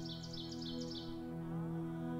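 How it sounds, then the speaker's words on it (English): Birds sing in short, repeated chirps over a soft, sustained musical drone in a calm meditation setting. The birdsong fades after about a second while the music continues. "The birds are singing,"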